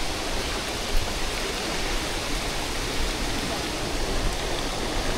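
Broad, steady roar of falling water at the 4 Step Waterfall on Gunung Tahan, a continuous full-band rush with spray, loud and close throughout with no clear breaks.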